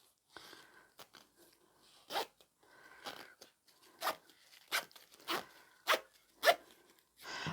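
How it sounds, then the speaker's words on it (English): A zipper on a small fabric pouch makes a series of short, crisp zipping strokes close up. The strokes are quiet and come in an uneven rhythm. "And then you can just zip it back up again."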